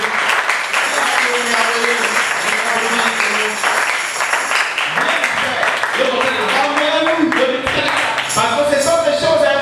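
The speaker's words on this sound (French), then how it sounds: "Oh, applaudissez." A congregation claps during a French-language sermon, a continuous rattle of hands underneath loud voices calling out and chanting throughout.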